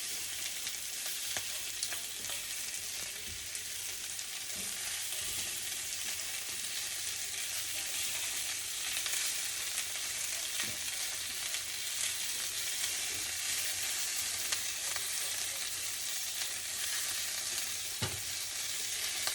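Cabbage wedges searing in a hot pan to char the cut faces give a steady, close sizzle and crackle that runs unbroken for the whole stretch, with a few sharper pops and light scrapes and no talking.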